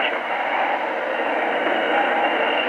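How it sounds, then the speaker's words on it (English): Train air brakes hiss in a radio drama, a steady, loud rushing noise that holds evenly for a few seconds with no speech over it. "Brakes. Somebody pull the air brakes."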